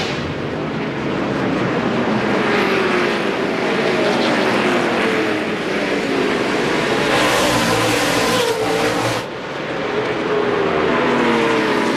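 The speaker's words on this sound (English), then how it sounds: "Here comes Musgrave, down for the green flag on the restart." NASCAR Craftsman Truck Series race trucks at the 2002 Advanced Auto Parts 250 roar loudly as the field restarts at the green flag, a dense, sustained engine drone with rising revs and a brief dip near the end, with no talk.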